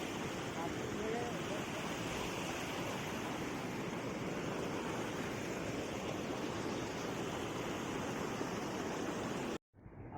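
A waterfall on the Surya river near Kasa, Palghar, roars as a dense, continuous rush of churning water, loud and close, before cutting out abruptly at the end.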